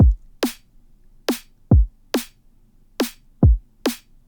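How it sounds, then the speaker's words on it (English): A basic drum loop skeleton: deep kicks on the downbeats alternate with crisp snare hits on beats two and four, a steady, punchy, evenly spaced pattern with nothing else playing. "So then we'll get a skeleton of a drum loop that sounds like this."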